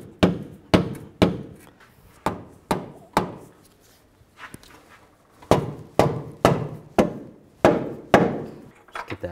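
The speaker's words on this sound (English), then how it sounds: "Take a dead blow hammer, just hammer it into position." A dead blow hammer taps a lower control arm into position on a 2003–2007 Cadillac CTS, sharp dull thuds in quick bursts of four to six blows with a brief pause in the middle.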